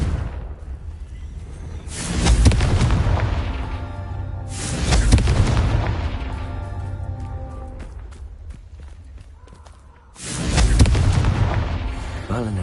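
A Confringo spell in the Hogwarts Legacy video game sets off three heavy booming blasts, each a sudden roar that rumbles and fades, spaced unevenly with quieter game ambience between.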